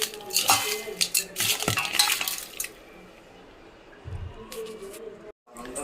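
Chicken marinade is stirred and mixed in a bowl with clinks and scrapes of a utensil against the dish, in busy bursts that give way to a quieter stretch and a few last knocks.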